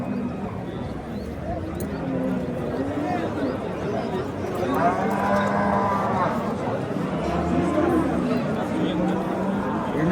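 A deep, drawn-out moo from an ox rises midway amid a bustling outdoor livestock market crowd, with people chattering and haggling nearby throughout.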